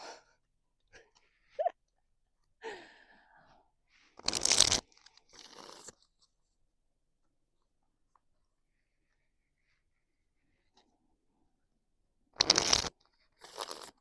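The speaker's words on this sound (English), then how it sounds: "Let's do a couple shuffles here." Tarot cards shuffled by hand during a reading, giving two short bursts of riffling crackle far apart, with faint rustles and handling noises in the quiet between them.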